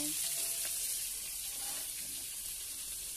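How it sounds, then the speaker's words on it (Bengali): Prawns fry in hot oil in a pan, giving a steady, close, loud sizzle that hisses without a break for the whole stretch. "আমি চিংড়ি মাছগুলোকে ভালোভাবে ভেজে নিচ্ছি"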